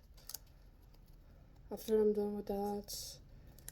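Scissors snipping apart pieces for a homemade reindeer ornament craft: a couple of brief, crisp cuts, one before and one right after someone speaks close by.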